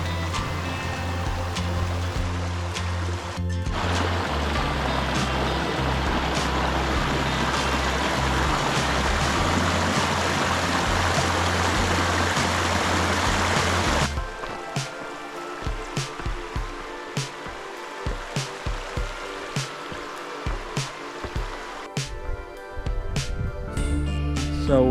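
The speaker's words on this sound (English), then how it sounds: "The sound of rushing water along the way creates a peaceful atmosphere" A creek rushes between two lakes on a forest trail, a loud steady roar of flowing water for the first half, then fading to quieter trickling with footsteps and scattered knocks.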